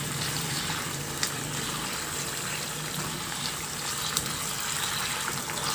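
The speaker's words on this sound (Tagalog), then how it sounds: "At sa puntong ito, maglagay na ako ng tubig." Water pours steadily into a pot of beef cooked in tomato sauce, a continuous close gushing splash that runs evenly throughout without talk.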